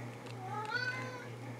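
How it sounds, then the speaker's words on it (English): A house cat gives a single drawn-out meow with rising and falling pitch, close by and fairly quiet, over a steady low electrical hum in an indoor room. "Sorry about the cat."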